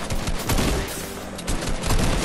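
Dense gunfire in the video game Fortnite: overlapping rapid shots and bursts crackle continuously and loudly, with no pause throughout.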